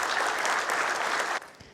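Audience applause at a company customer meet in Pune fills the stage hall, steady dense clapping for over a second before cutting off sharply, leaving only a faint scattered clap.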